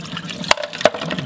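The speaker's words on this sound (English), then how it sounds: "just get rid of the ice and the water." Ice water is poured out of a bowl of basil, producing short sloshing and splashing sounds with two quick spills close to the microphone.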